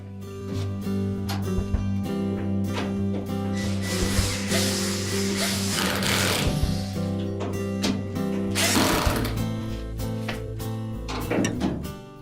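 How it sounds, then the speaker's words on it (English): Mounting screws being driven back into a Samsung washer's inlet water valve through the rear panel, with steady mechanical whirring, ratcheting and clicking from a power tool, plus a few knocks and rattles, close and continuous with no talk. "And then we'll reinstall the two mounting screws."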